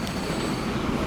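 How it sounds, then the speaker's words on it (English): Passenger train rolling along in the Transport Fever 2 railway game, set around 1880, giving a steady low rumble of wheels and carriages throughout with no break or pause. "You're a passenger train."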